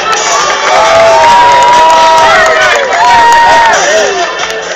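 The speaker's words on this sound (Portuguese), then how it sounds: "Convido o Reginaldo, recebendo com carinho do povo uma forte salva de palmas aí, o grande Reginaldo" A lively crowd at the opening of a rodeo festival in Icaraí de Minas, Brazil, cheers and shouts loudly and continuously, a dense wash of voices with clapping mixed in.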